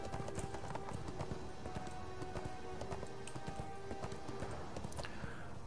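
Horse hooves in the ArcheAge game, a quick, steady run of sharp clip-clop strikes, close and fairly loud, continuing unbroken through the whole stretch over a soft ambient background.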